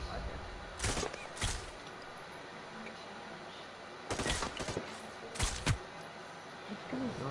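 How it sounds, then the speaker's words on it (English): Gunshots ring out in Hyper Scape as quick bursts: two short volleys early, then a longer cluster near the end, over a quiet game background. "I'm shooting at somebody."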